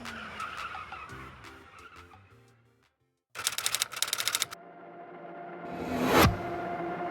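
Tire-skid squeals from the Beach Buggy Racing game played on a Tesla's screen, with a rising screech peaking near the end after a burst of rapid clicking game effects; no talking.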